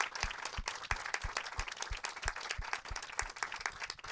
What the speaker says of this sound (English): Big round of applause for coming and speaking.